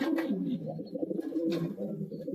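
A Belgian racing pigeon coos softly close by, a few low rolling coos repeating over a quiet background with no talking.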